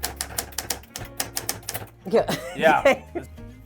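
A mid-century manual typewriter clacks in a rapid run of sharp keystrokes, followed by a brief burst of higher mechanical rattling, with a person talking nearby.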